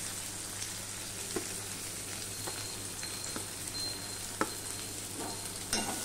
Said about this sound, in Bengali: পেঁয়াজ আর রসুনটা আমি ভালোভাবে লাল লাল করে ভেজে নেব